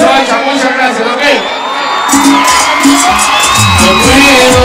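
A concert crowd at an outdoor star show in Soacha cheers and whoops loudly and continuously, with a singer's voice and music running over the noise.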